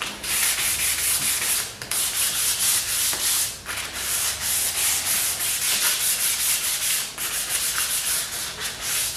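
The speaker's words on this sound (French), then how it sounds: "on va utiliser notre papier 220 de façon à rendre la moulure bien lisse, bien douce" Wood moulding hand-sanded with 220-grit sandpaper along the grain, a continuous close scratchy rasp in steady back-and-forth strokes with brief dips between passes, no voices.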